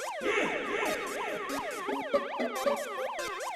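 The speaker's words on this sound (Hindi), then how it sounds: "ये पुलिस के सायरन की आवाज है और ये हमारे सोसाइटी के कंपाउंड से आ रही है।" A police siren sounds inside a housing society compound, with several overlapping rapid wailing sweeps that rise and fall steadily. It is loud and continuous, with no talking.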